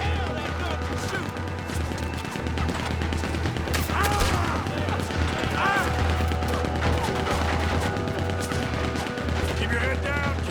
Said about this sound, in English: Look out, he's firing! Hell, that gun can shoot!